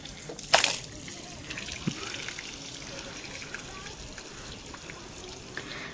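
Cold water from a tank is splashed onto fresh masonry at a village construction site: one quick splash near the start, then soft trickling and dripping over faint outdoor background noise.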